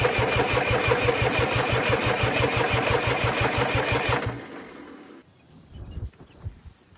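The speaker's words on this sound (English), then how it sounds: "I'm going to go ahead and just start turning over the engine to try and get some fuel" John Deere tractor engine cranking over on the starter with a fast, steady rhythmic chug, loud and close, then cutting off into quiet with a few faint clunks and shuffles.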